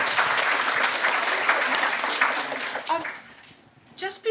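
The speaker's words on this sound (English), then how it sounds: "Could you give her a round of applause?" An audience at a national symposium on health, justice and ageing applauds, a dense sustained wave of clapping that thins out toward the end, with a few voices rising as it fades.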